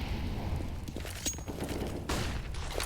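Grenades and gunfire in a Counter-Strike esports match on the banana area, with dense continuous gunfire and bursts of shots and a few thuds layered over steady game noise for about three seconds.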